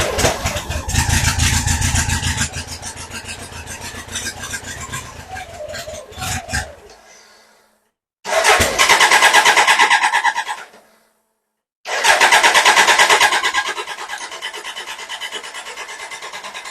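A BMW K100 motorcycle is cranked on choke, with a harsh, rasping starter grind in three long bursts separated by short silences, loud and close, and no talk.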